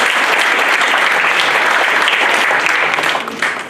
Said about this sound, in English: the teachers needs a big round of applause for that experience.